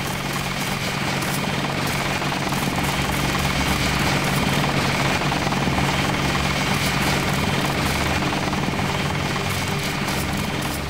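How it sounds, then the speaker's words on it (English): A helicopter in the video game Deus Ex lifts off and flies away, its steady rotor and engine drone filling the whole stretch at a constant, fairly loud level with no talk over it. "So we've got a chopper leaving."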